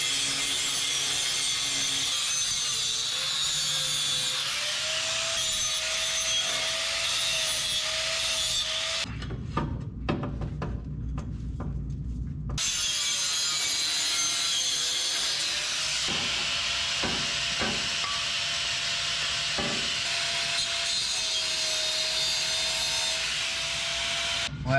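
A saw cutting through a pipe on a 1992 Toyota pickup, with steady rasping strokes and a hissing buzz that stop briefly midway, then resume.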